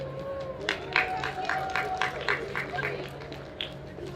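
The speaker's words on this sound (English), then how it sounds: "Let's give them a round of applause as they come." Audience applause rings out at an outdoor university tree lighting ceremony as guests are welcomed, scattered claps rising over a busy crowd murmur with people talking in the background.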